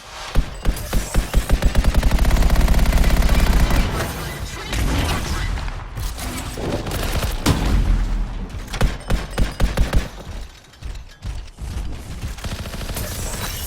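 Heavy gunfire from a large gun in the video game Anthem, a loud sustained rapid burst of shots followed by booming blasts and scattered explosions, with no talk.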